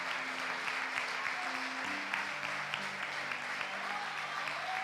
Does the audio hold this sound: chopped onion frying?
no